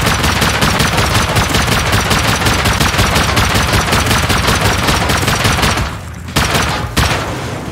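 Sustained automatic gunfire in the survival game Rust during a base defense against raiders, loud and rapid with dense repeated shots, stopping briefly near the end before a few final bursts.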